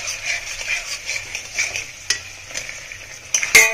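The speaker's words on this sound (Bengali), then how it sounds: "তার মধ্যে সয়াবিন কটা দিয়ে ভালোভাবে কষিয়ে নিন" Soybean chunks sautéing with yogurt masala in a pan give a steady close sizzle, broken by spoon stirs and scrapes and a sharper clink of metal near the end.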